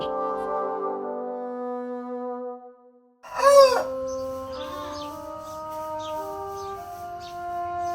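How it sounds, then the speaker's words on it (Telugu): A jathi (fighting-breed) rooster crows once on a farm, loud and close, its call rising and trailing off, with steady tonal background hum before and after. "మన లైగర్ అలాంటి ఒక కోడిపుంజు."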